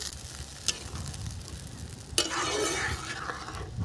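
Mustard fish curry gravy bubbles in a pan with a soft, steady sizzle, broken by a couple of sharp clinks and a louder splash of frying near the end.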